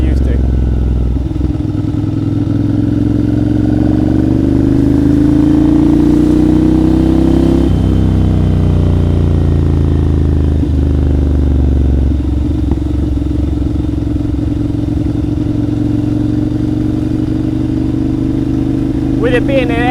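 A big air-cooled motorcycle ridden on roads in Thailand, its engine droning steadily and loud throughout with shifting pitch as it revs and changes gear, while someone talks over it.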